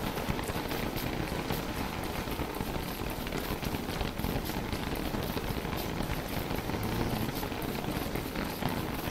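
Steady rain pours in the survival video game Don't Starve: Reign of Giants, a dense, even hiss of falling drops that holds constant throughout at moderate volume.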